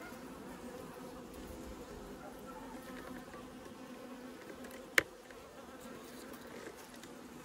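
Honey bees from a swarm being merged into a mite-damaged colony hum in a steady, dense drone throughout, with one sharp click partway through.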